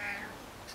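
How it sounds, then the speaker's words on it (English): A house cat gives a single short meow, faint and close, in a quiet indoor room with no talking. "This cat is being annoying now."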